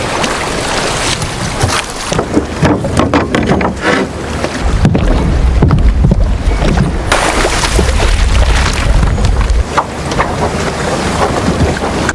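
A rowing boat crosses a lake, with water sloshing and knocking around the hull under steady wind buffeting the microphone, loud and close throughout.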